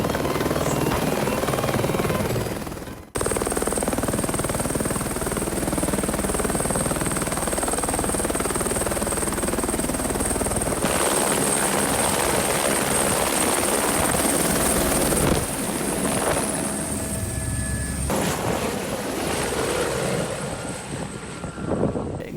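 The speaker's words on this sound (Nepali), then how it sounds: "हिमाली क्षेत्रमा हेलिकप्टरको प्रयोग गरी सर्वेक्षण गरिएको थियो" A helicopter flies over the Himalayan region of Nepal during a survey for Mount Everest's height, a loud, steady rotor thrum and turbine whine that holds close and continuous, with a brief dip early on.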